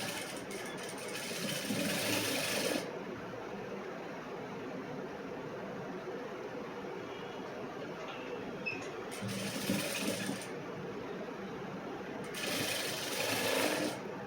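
Sewing machine stitching a blouse seam in repeated bursts, a steady mid-level mechanical whir that swells into three louder, brighter runs of rapid stitching, with brief pauses between.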